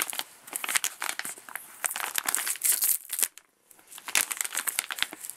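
A Mylar bag being opened by its tear tabs, a close run of sharp crinkles and crackles with a brief pause before more rustling resumes.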